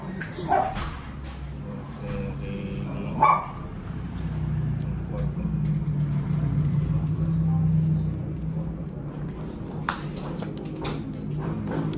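A chow chow dog gives a few short, scattered barks and yips over a low steady rumble, with people talking in the background.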